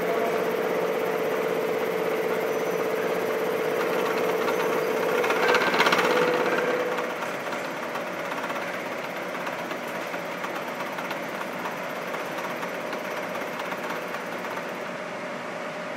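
Milling machine cutter spinning while squaring a block, a steady loud mechanical whine and hum that shifts lower midway as the cut changes, continuing evenly throughout.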